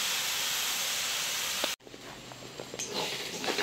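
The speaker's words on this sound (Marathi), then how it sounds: "ह्या तेलावर मस्त असं आपल्याला फ्राय करून घ्यायचं आहे" Crushed chili and peanut thecha frying in oil, a loud steady hissing sizzle that cuts off abruptly, then returns softer with small crackles and pops, close by and with no voices.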